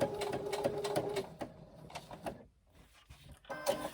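A sewing machine stitches along a drawn line for about seven inches, its mechanism clattering in quick rhythmic bursts at close range, then thinning out before a brief final run.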